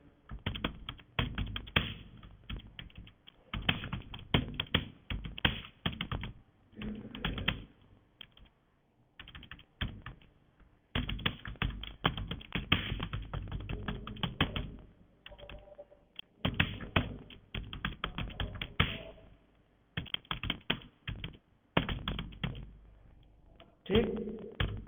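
Rapid clattering keystrokes on a computer keyboard in dense bursts separated by brief pauses, close and fairly loud throughout.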